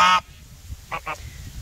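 A loud, nasal goose honk, followed after a pause by two shorter, softer honks close by, at a goose pond.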